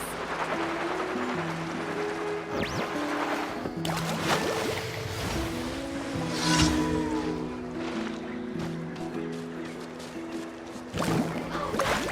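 A vehicle at full throttle carves over ocean waves in Genshin Impact, with continuous loud splashing and rushing water layered over sustained musical tones and a few swooshes.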